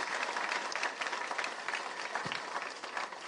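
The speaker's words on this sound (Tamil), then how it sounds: "அனைத்து பெண்களுக்கும் நீங்கள் ஒருவரை மிகப்பெரிய கரகோஷத்தை கொடுத்து விடலாம்." Audience at a women's rally applauding in a large crowd, a dense, continuous wash of clapping that holds steady for a few seconds, with faint crowd noise beneath.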